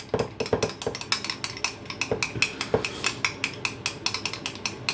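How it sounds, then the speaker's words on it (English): Oregano being mixed into food in a bowl, heard as rapid, repeated clinks and scrapes of a utensil against the dish in a quick, uneven rhythm, close and fairly loud with no talking. "Let's mix that up. Hopefully there's not too much oregano in there. Mix it well, guys."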